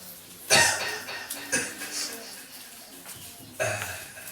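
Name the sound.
coughing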